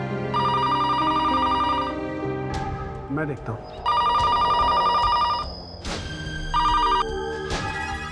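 A telephone bell rings in loud, bursts of trilling rings separated by short pauses, close by indoors, while someone speaks briefly between the rings.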